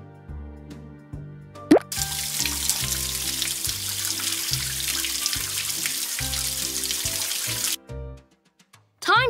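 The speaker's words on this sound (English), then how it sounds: "Let's rinse the bubbles away now." In a PAW Patrol video game, rinse water pours over a pup's soapy paws as a bright, dense splash, set over a looping bouncy tune with plopping notes and a short sparkle effect before it.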